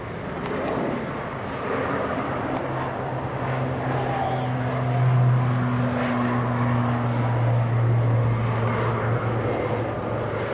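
A plane departs low from Leeds Bradford Airport with a steady engine drone that swells gently and holds at moderate loudness, a low rumbling tone running throughout, with no talk.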